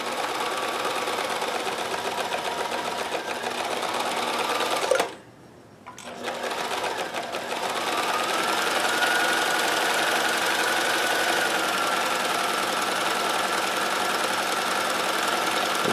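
Sewing machine chain stitching a row on cotton, Singer 431G or Kenmore 158: a steady, fast mechanical whir and rapid needle clatter running loud and close, briefly stopping midway before resuming at an even pace.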